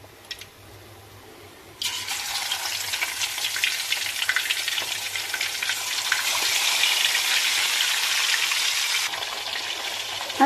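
Fish fries in hot oil with a loud, continuous crackling sizzle that starts suddenly after a quiet moment and carries on steadily before cutting off near the end.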